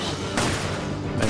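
A short burst of gunfire in the video game Resident Evil 5 cracks out, loud and close, with a second hit right near the end of the brief moment.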